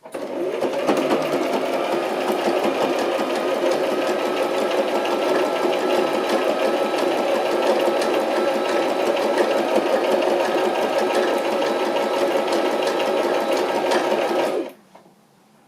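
A sewing machine stitches a Christmas journal cover continuously at a steady fast rhythm for about fifteen seconds, close and clear, then stops abruptly.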